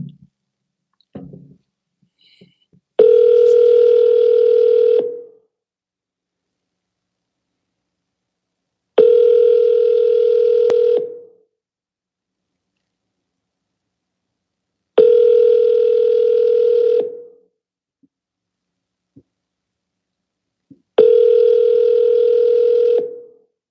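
A telephone ringback tone repeats while a call is placed to a for-sale-by-owner home listing. Four steady two-second buzzes sound clearly, spaced about six seconds apart, with a couple of faint clicks before the first.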